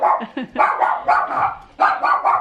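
A dog barks repeatedly and loudly, close by, in quick uneven bursts with brief pauses between them.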